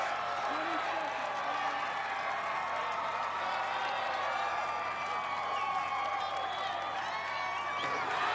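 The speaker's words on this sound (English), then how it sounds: "Listen to the crowd. They are going nuts." A large crowd cheers and roars continuously at an American Ninja Warrior USA vs Japan Stage 3 event, a steady, distant wash of noise with an announcer talking over it throughout.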